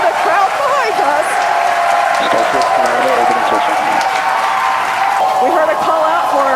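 A crowd cheers and claps behind commentators at a rocket flight test as orbital insertion is called, a steady roar of applause running throughout with talking over it.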